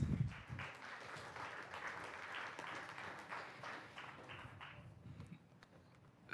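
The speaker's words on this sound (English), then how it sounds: "Let's give them a round of applause." A crowd applauds steadily as speakers take the stage at a panel on DAOs and governance, many hands clapping in a dense, continuous roar with little change in intensity.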